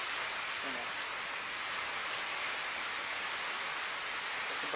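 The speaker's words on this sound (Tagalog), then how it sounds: "Lalo pang lumakas ng ulan." Heavy rain pours down in a steady, dense hiss that stays loud and unbroken throughout.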